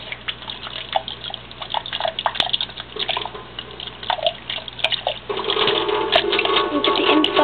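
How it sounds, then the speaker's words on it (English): A kitchen sink tap runs at a very low flow, a soft steady trickle of water that grows fuller and more continuous in the second half, with a few faint clicks and knocks nearby. "now step two is to turn your sink on very low"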